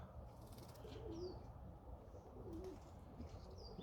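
Budapest-breed pigeons coo softly in a yard, with a couple of low, rolling coos a second or so apart over faint background hiss, quiet and fairly distant.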